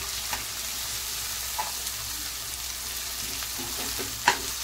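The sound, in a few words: onions sautéing in a pan for kande pohe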